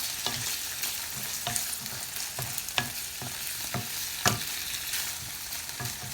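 Chicken and onions stir-frying for soy-sauce noodles over a raised gas flame, a loud continuous sizzle punctuated by rhythmic scraping and tossing strokes of the utensil, no talk.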